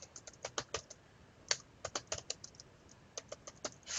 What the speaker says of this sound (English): And I'm going to type in my own.